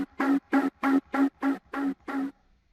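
Synthesized bass with a shaped LFO plays seven evenly spaced, loud, buzzy pulsing notes, then stops; no talking.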